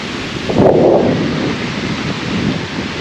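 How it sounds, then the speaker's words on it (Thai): Steady roar of the Tat Khu waterfall in Laos, a broad continuous rush of falling water with a brief louder swell near the start, heard alone without voices. "น้ำตกตาดคู่ยินดีตอนหับเนาะพี่น้อง"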